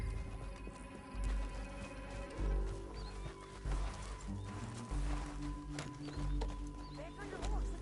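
A horse travels through a canyon in the video game Red Dead Redemption 2, its hooves thudding in a steady galloping rhythm under music and game ambience at moderate volume, with voices talking over it.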